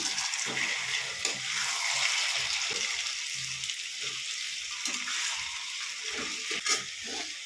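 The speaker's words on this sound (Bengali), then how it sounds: "চলো টমেটোটা ভাজা হোক" Tomatoes fry with onions in a pan for a Sunday lunch, giving a continuous hissing sizzle with occasional stirring clatter, close and steady, with no voices.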